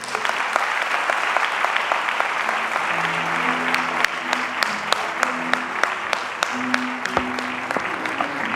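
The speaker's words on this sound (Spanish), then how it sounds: "les pido un fuerte aplauso" Sustained audience applause at an awards ceremony in Lucena, a dense, steady patter of many hands with a few sharper claps standing out, while a faint tonal background sound runs underneath.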